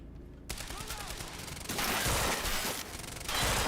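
A gun fires in the video game Quantum Break with heavy recoil, starting with a brief quiet moment and then breaking into dense, loud bursts of rapid automatic fire, with a short lull near the end before another burst.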